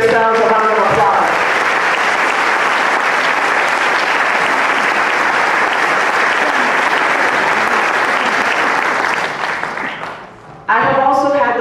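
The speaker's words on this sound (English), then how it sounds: "So can you please give yourselves a round of applause?" An audience at a Medford Public Schools teachers' event claps for itself in a long, loud, sustained burst of applause. A voice speaks briefly before it begins and again as it dies away near the end.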